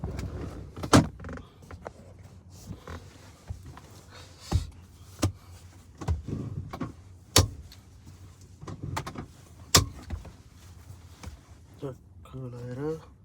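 A car at close range, with several sharp door thuds and clunks as people climb in, then low engine rumble as it pulls away, voices chatting throughout.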